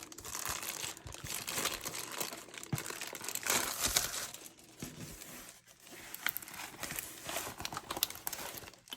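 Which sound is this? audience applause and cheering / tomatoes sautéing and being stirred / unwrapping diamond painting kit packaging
unwrapping diamond painting kit packaging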